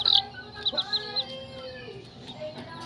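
Chickens of a rare new hybrid breed cluck in short bursts at moderate distance, with a few sharper calls early on and quieter farmyard noise between.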